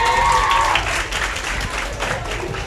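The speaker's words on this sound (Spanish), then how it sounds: "Un aplauso al profesor Raime" A room full of people claps for a teacher, dense sustained applause with some crowd noise and a voice briefly audible at the start.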